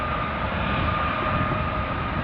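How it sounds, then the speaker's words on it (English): Steady broadband engine roar of an airplane landing, continuous and fairly loud, with a faint tonal hum and no voices. "when the smoke comes up, she's landing"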